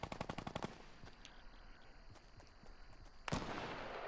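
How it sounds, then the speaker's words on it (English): Minigun firing in Fortnite, a fast rattling burst at the start followed by scattered distant shots, then a sudden loud resumption of rapid fire at the end. "Oh, somebody has a minigun."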